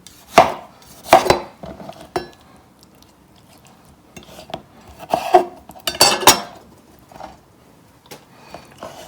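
A kitchen knife chops tomatoes on a board with a few sharp, close knocks and clatters, spaced irregularly between quieter handling sounds. No one speaks.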